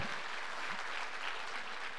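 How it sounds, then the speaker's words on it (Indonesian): A church congregation at a Sunday service applauds during a sermon, with steady, fairly faint, continuous clapping that fills the room for about two seconds. "Tepuk tangan bagi Tuhan kita."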